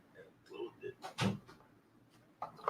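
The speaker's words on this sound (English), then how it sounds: "Let me close the door." A door swings shut with a solid thump, with a quiet voice before it and a small knock afterward.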